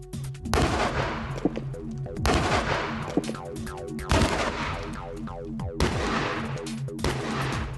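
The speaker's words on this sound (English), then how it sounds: "Next, the cannon will be trained on the earth-backed section of the wall." Cannon shots fired repeatedly at an earth-backed section of stone wall, about five loud booming blasts a couple of seconds apart, each followed by rumbling debris and crumbling noise.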